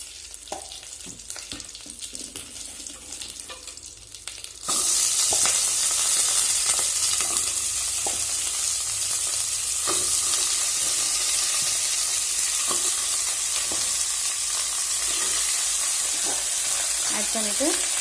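Chicken pieces drop into hot oil in a pan for a Tamil uppu kari dish, and a loud, continuous sizzle of frying takes over abruptly, broken by scattered stirring scrapes.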